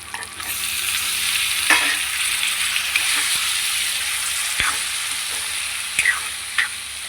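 Tomatoes go into a pan with drumsticks for a curry and fry: a steady close sizzle with occasional stirring scrapes and taps against the pan.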